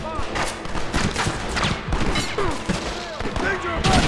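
A Gatling gun fires in the Red Dead Redemption video game, a continuous rapid rattle of shots with thudding impacts throughout, mixed with shouting voices over the battle.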